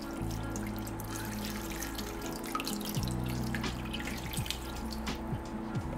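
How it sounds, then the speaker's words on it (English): Water poured into a pot, about 900 ml, while making a homemade natural vegetable dye, a steady close running and splashing stream with no talk. "pour in about 900 ml of water"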